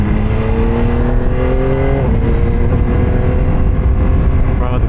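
A 2025 Yamaha R9 motorcycle accelerates onto a freeway, its engine note climbing and then dropping at a gear change, with loud, steady wind rush throughout.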